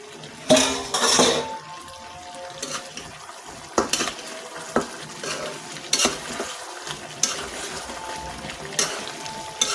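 Beef being sautéed and stirred in a pan in a home kitchen, cooked with long beans. Intermittent scraping and clanking of a utensil against the pan comes in sharp bursts over a faint sizzle, with no talk.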